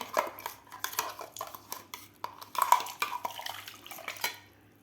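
A spoon scrapes and clinks against a kadhai while stirring a black chickpea and tomato paste thinned with water, with the gas off; it gives a steady, close run of metallic taps and scrapes with no talk.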